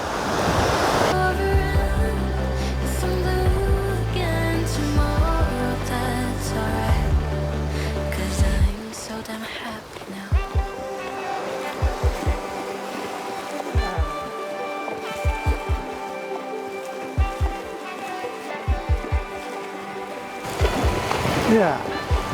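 Ocean surf washes over a beach as a horse rides out into the sea in the morning. A steady wash of waves gives way to rhythmic splashing thuds of hooves in the shallow water.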